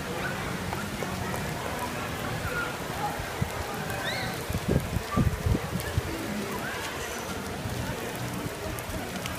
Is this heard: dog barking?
no